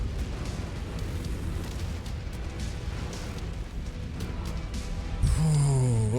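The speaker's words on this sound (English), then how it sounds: "don't you dare drop artillery directly on my head at point blank range" An artillery barrage lands in the MechWarrior 5 mech combat game, a sustained roaring rumble of blasts followed near the end by a sharper, louder impact with a ringing, rising tone.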